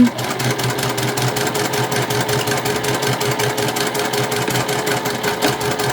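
A sewing machine runs steadily, stitching a cotton tote bag, its needle hammering in a fast, even mechanical rhythm, close and alone without any talk.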